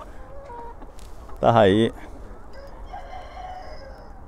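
A rooster crows once, loud and close, amid faint clucking and chicken calls on a free-range farm, with someone talking quietly before and after.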